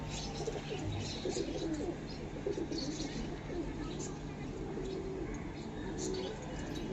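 A pair of pigeons, including a white female with purple feet, cooing softly in repeated low calls against faint background noise, with a voice speaking nearby.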